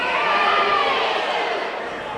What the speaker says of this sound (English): Not sure what the Mosinee crowd over there is so upset about.